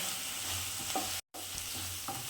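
Spring onion stir-fried on high flame in a pan for dry gobi manchurian, giving a steady loud sizzle with brief stirring scrapes and a short break in the middle.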